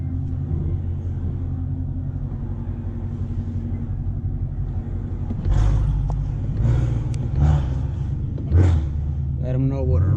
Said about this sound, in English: Let them know what a real car sounds like.